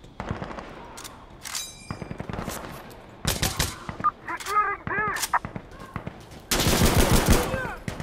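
Automatic gunfire rattles in Insurgency Sandstorm, with several loud bursts separated by short pauses and ending in a long sustained volley. Shorter sharp cracks and clinking sounds are scattered between the bursts.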